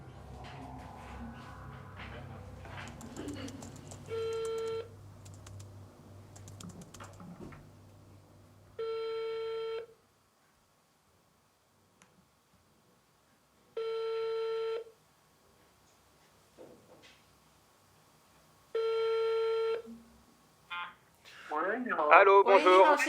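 A telephone ringback tone on an outgoing call, heard as four regular long tones separated by silences, after a stretch of background voices and noise.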